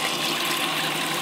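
Hot water runs steadily from an apartment tap in St. Petersburg, a continuous, close, even rush with no pauses.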